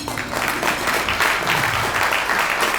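Diners at a scholarship dinner break into sustained applause, dense clapping from a large room continuing steadily throughout.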